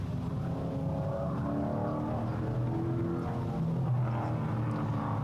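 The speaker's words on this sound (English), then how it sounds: "we hear the race cars going around the track there at the Alaska Speedway" Race cars circle the Alaska Speedway track as a steady, droning engine roar carried from a distance, continuous and even throughout, with no talk over it.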